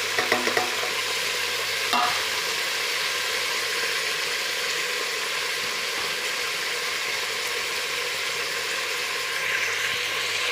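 Mint, onion, green chili and tomato fry in a pan for a mushroom biryani, a steady close sizzle running throughout with a few scraping stirs near the start and no talk.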